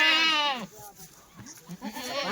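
Kathiawari goats at a livestock sale bleat loudly up close, one long wavering call at the start and another starting near the end, with brief talking in between.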